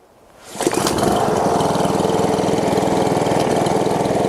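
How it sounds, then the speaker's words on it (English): A Trafalgar paddock cleaner's small engine starts on a pull and settles into a steady, loud putter on choke, running evenly close by. "it's on choke and it's just puttering a little bit"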